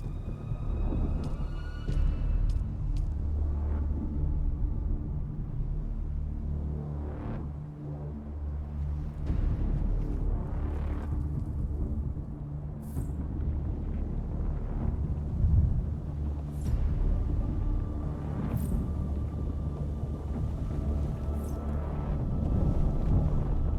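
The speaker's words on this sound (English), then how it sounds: "Storm is quite near." Approaching sandstorm in Dune: Awakening: steady, heavy low roaring wind with gusty rumbles throughout, occasional faint higher whistling and crackles, continuous and unbroken.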